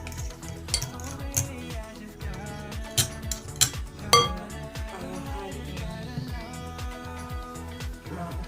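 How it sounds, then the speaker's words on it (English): A fork clinks and scrapes steadily against a bowl while eggs are stirred, the quick metallic taps repeating in an even rhythm with a few louder knocks, close by and with no voices. "I use my fork to just give it a stir."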